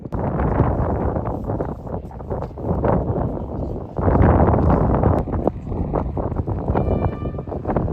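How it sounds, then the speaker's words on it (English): Strong wind buffets the microphone in loud, uneven rumbling gusts that rise and fall throughout, outdoors in Plymouth near Smeaton's Tower. "A little bit windy, which you can hear on the audio"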